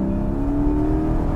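Porsche 718 GTS with its 4.0-litre motorsport-derived flat-six mounted behind the cabin, holding a steady, loud, close rev with a strong humming drone throughout.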